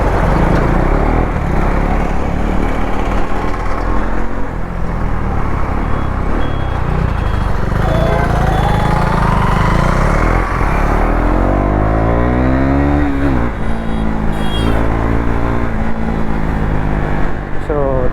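A KTM Duke 390 BS6 motorcycle ridden fast on a highway gives a loud, continuous engine drone with wind roar and rising and falling revs through gear changes, heard close up throughout.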